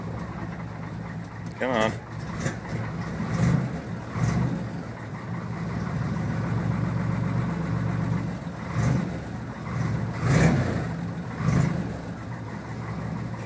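A cold 1966 Chevy 292 engine runs at a rough, uneven idle, close by and steady. It swells in a few brief revs, and someone talks over it now and then.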